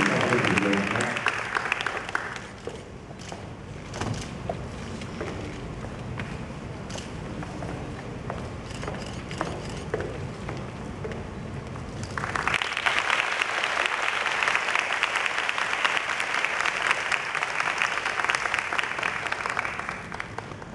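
Audience applause at a Saigon stage event breaks out in a loud sustained wave, with a host's voice over crowd murmur before it.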